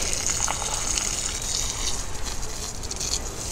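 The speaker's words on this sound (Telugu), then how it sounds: "నేను అన్నిటికీ ఇదే పోస్తున్నానని చూపిస్తానికి చేస్తున్నా" Moringa leaf fertilizer solution mixed with Amulya Gold bio-fertilizer is poured onto potted plants, a steady, close, continuous gush of liquid splashing into soil with no voices.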